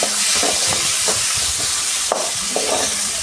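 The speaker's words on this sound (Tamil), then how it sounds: "கட் பண்ணி வச்ச பெரிய வெங்காயம் ஒரு 6 வெங்காயத்தை சேர்த்து நல்லா வதக்கணும்." Chopped onions sautéing in a pan with mustard seeds and urad dal, a steady broadband sizzle with occasional stirring scrapes, close and fairly loud with no talking.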